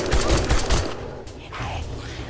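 Rapid bursts of gunfire in the co-op zombie survival game 7 Days to Die, console version, crackle in a quick volley and then fade into quieter game ambience.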